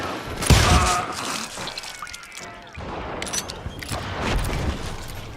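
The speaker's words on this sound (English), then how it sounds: "I heard the shots and I knew I had to move fast." Gunfire in the Western shooter Call of Juarez: Gunslinger, with a loud shot early on followed by scattered cracks and rumbling echoes over a noisy, clattering backdrop.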